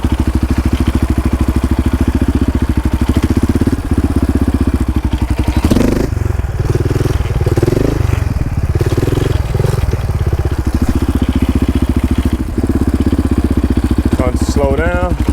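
A quad ATV engine runs with a loud, close, pulsing rumble that wavers and sags in the middle as the machine slows, then dies away near the end, with a person talking over it.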